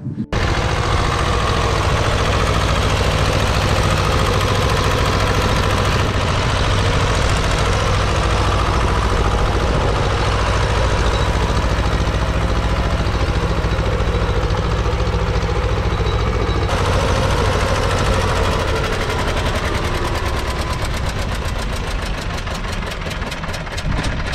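A farm tractor's engine runs steadily for the whole stretch, a loud low diesel rumble close by with a slight rough knock, ahead of field preparation for planting potatoes.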